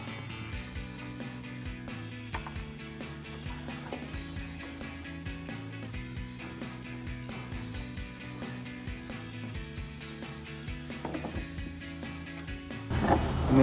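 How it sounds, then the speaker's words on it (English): An 8mm socket ratchet clicks in rapid bursts of pawl ratcheting while removing the taillight bolts on a 2018-2020 Ford F-150. The sound is close and fairly quiet, with a brief clatter at the end. "Now we're gonna remove the right side taillight using the same 8mm socket."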